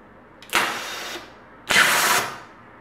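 Air-powered blood cannon fired from a compressed-air tank through a ball valve: two loud, sharp hissing blasts of released air, each about half a second to a second long, close up and with no talking.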